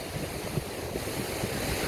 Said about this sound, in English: Ah, tide's coming in.